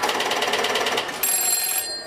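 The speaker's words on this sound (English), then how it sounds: "I'm going to pick up the phone now." Telephone ringing with an incoming call at a radio museum, a rapid trilling electronic bell heard close and fairly loud, with a brief high steady tone joining near the end.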